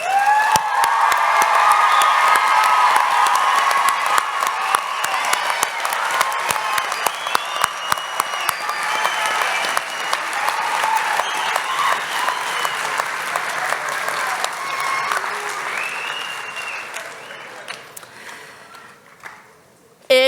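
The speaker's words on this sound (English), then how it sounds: "I don't think that's enough applause for this class." A graduation ceremony audience applauds and cheers for the Sandy High class of 2022, a sustained wash of clapping with whoops and shouts over it, gradually thinning and fading out toward the end.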